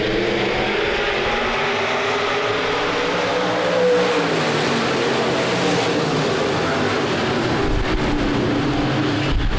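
Race cars at Rapid Speedway, a dirt oval, roar together under acceleration at a green-flag restart, a dense, loud, continuous engine drone with rising and shifting pitch from a pack of cars throughout, no voices heard.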